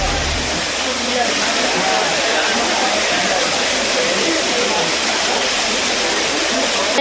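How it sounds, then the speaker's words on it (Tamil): Courtallam waterfalls after rain, a loud, steady rush of falling water roaring without break, close by and filling the whole scene. "புதன்கிழமை இரவு பெய்த மழையால் அனைத்து அருவிகளிலும் நீர் வர தொடங்கியுள்ளது."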